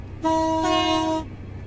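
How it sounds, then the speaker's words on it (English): A single two-tone train horn blast sounds chord-like, the higher horn shorter, layering into a brief richer tone in the middle, lasting about a second and moderately distant. "It sounds like three horns, but it isn't."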